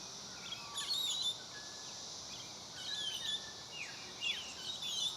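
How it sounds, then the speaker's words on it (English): Bird calls from a comb-crested jacana, the lotus bird, come as faint, thin chirps and whistled phrases in scattered bursts over steady outdoor hiss, with insect-like background noise and no talking. "This is a comb-crested jacana, a rather shy bird that doesn't always show up in this location."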